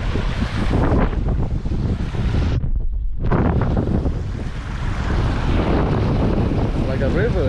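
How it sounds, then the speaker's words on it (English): Steady rushing spring water falling from a mountain in Iceland roars close by, loud and continuous, with a rough wind-like blustering and a brief dip partway through. "water falling from the mountain there."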